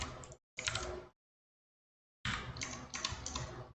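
Quick bursts of computer keyboard typing close by, two short runs of clicks separated by a silent pause, with no talking.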